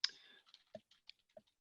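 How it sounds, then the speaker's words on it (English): Faint, irregular keystrokes from typing on a computer keyboard in a quiet room, about half a dozen light clicks spread over under two seconds. "I was typing an answer to Ranim regarding databases."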